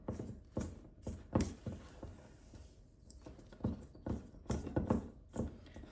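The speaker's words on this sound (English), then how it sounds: "So get that flour stirred in." Thick cookie dough being stirred by hand as flour is worked in, with a series of dull, rhythmic thumps and scrapes from the spoon, fairly close and with no talking.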